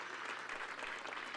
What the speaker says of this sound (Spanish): Un aplauso a Dios por este domingo especial